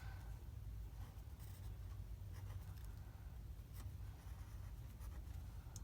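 Pen strokes scratch faintly across paper as chemistry bond dipoles are drawn, a soft continuous scraping with small rhythmic accents over a steady low background hum.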